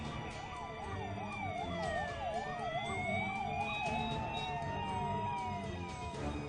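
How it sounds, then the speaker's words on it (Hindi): A police siren wails with fast rising and falling sweeps at a highway traffic jam, fairly loud and steady over background traffic noise, with a faint murmur of voices. "सायरन बजाती हुई पहुंचती है।"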